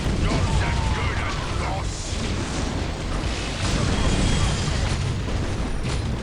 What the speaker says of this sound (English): Shooting a lot of rockets.